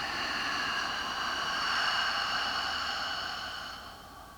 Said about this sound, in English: A deep inhale again through the nose. And a long, gentle exhale out of the mouth.